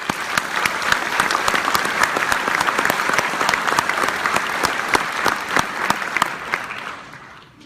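A large audience applauds to welcome Chief Jeffrey Swoboda as keynote speaker, with loud, steady clapping for about seven seconds that tapers off at the end.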